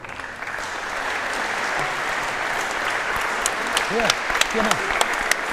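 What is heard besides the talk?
audience applause for two wallball players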